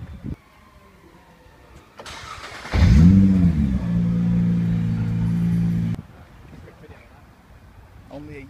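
A 2017 Nissan GT-R engine starts with a sudden roar and then holds a loud, steady rev for about three seconds before cutting off, with quieter background murmur before and after.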